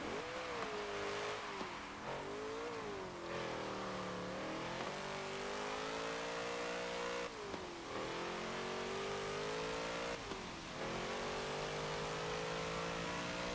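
1967 Volkswagen Karmann Ghia engine in the Forza Motorsport 7 racing game, revving hard through repeated gear changes, each pull rising then dropping briefly before climbing again, loud and continuous.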